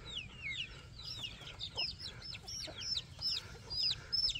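Chicks and a turkey on a farm, with dense rapid high peeping and chirping that runs throughout, close and continuous, over a low rumbling background.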